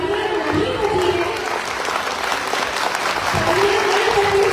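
Sustained, dense applause fills the whole stretch as an audience claps for children at the Brahmarshi Seva Samaj 26th annual cultural program, steady and fairly loud, with a voice carrying over it.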